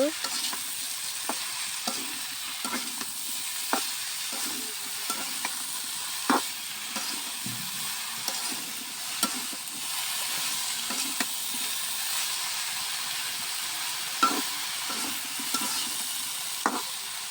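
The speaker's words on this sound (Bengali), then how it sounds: "নাড়াচাড়া করে মিশিয়ে নিব" A spoon scrapes and knocks repeatedly against a pan while aubergine and dried fish (shutki) curry is stirred and mixed, over a constant close frying sizzle; no one speaks.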